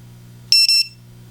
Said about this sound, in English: And this one has a beeper.